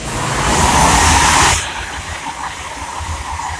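Train on the East Coast Main Line at Welham Green rushes past with a loud, close whooshing roar that cuts off abruptly, leaving fainter rumble behind.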